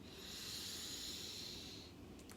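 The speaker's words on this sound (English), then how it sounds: "take a deep inhale in through your nose and exhale out through your mouth" A long, deep breath drawn in through the nose and then let out through the mouth, heard as a steady airy hiss close to the microphone that fades near the end.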